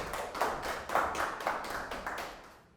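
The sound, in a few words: audience clapping to welcome speaker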